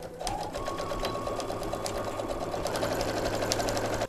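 A sewing machine stitches fabric for a small zipperless pouch, its needle running in a fast, steady mechanical whir, close and continuous throughout.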